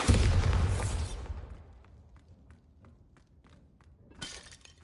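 A Bombarda blasting spell in a Hogwarts video game bursts loudly with a shattering crash that dies away into scattered small clicks and debris, then a second smaller burst near the end.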